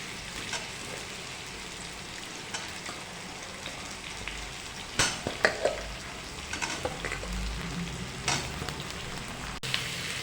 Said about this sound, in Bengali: আলুটা দিয়ে সামান্য নাড়াচাড়া করে এর মধ্যে দিয়ে দিচ্ছি কেটে রাখা বেগুনটা